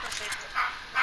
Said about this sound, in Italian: Il mio cane, perfetto.